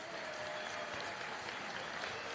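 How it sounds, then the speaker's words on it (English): Steady applause from a fight-event crowd after a bout, a dense continuous wash of clapping at moderate level with no voices standing out. "how about a nice round of applause for both fighters, please?"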